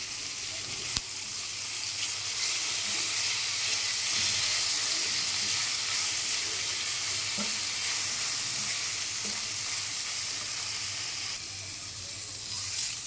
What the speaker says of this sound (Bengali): আমি পেঁয়াজ রসুন আদা দিয়ে আর একটু সময় ভাজতে হবে।